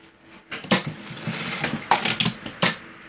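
A sewing machine stitching a pocket seam, running in short close bursts of rapid mechanical chatter separated by brief pauses.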